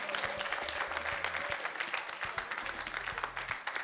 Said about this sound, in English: Before she come, clap.